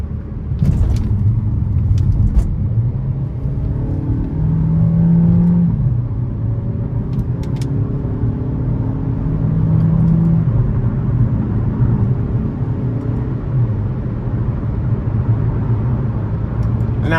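A 2014 Buick Encore with a 1.4 turbo four-cylinder accelerating onto the interstate in manual mode, engine droning and climbing through gears inside the cabin under steady road rumble.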